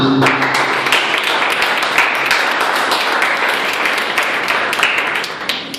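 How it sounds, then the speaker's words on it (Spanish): Steady, dense applause from a church congregation fills the space, holding loud and even before tapering slightly at the end. "Demos el aplauso a Jesucristo."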